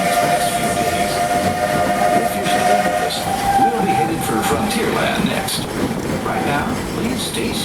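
A Magic Kingdom railroad steam train rumbles along loudly, with a long steady whistle-like tone through the first half and dense mechanical clatter throughout.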